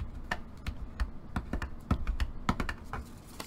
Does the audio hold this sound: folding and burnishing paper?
yes